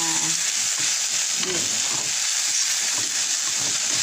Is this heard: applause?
no